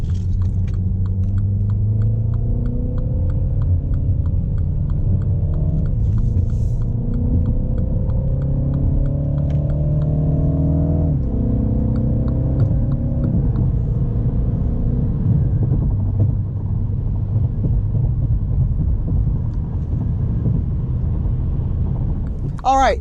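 A MINI Cooper S Clubman All4 with an 8-speed automatic in Sport Automatic mode cruises on a highway, its engine droning steadily as it climbs through gear changes under constant road and wind rumble.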